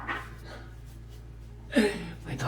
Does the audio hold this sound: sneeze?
no